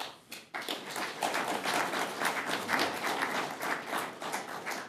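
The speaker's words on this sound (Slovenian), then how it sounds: "Mislim, da si je zaslužil aplavz" An audience at a DeSUS party event in Ormož, Slovenia, breaks into applause, starting with a few scattered claps that quickly grow into steady, full clapping from a room-sized crowd that keeps going without talk.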